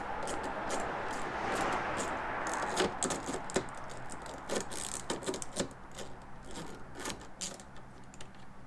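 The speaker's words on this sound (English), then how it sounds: "we've got an 8mm bolt that we need to remove on both ends. So we'll go and get our 8mm socket and do that." A socket wrench works an 8mm bolt loose on a Mini F56 while fitting a spoiler, giving close, light metallic clicks and ratcheting jingles in irregular clusters against low background hum.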